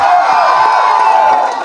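A crowd roars and cheers at a film first-look launch event, loud and sustained, with whoops and shouts blending into a continuous wall of noise.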